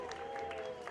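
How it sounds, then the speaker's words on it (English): A crowd cheers and applauds at a Valorant esports match between NRG and MIBR at VCT Americas Kickoff, a faint, brief patter of clapping over a steady hum. "And the crowd goes wild."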